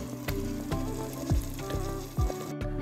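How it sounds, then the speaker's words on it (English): Egusi melon seeds fry in a pan with a busy, crackling sizzle, broken by a few distinct scraping stirs, close and alone without voices. "So I like to fry my melon till it is very dry"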